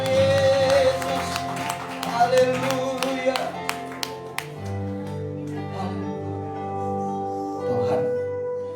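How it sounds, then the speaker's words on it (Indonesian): A church congregation claps for Jesus in a run of sharp, spaced hand claps over held keyboard-like music. The clapping thins out after the first few seconds while a voice speaks over the music. "Beri tepuk tangan buat Tuhan"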